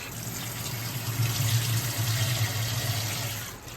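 Soaked lentils (dal) are washed under running water at a kitchen sink. The hiss of the steady water stream stays close and fairly loud for the whole few seconds, then tails off right at the end.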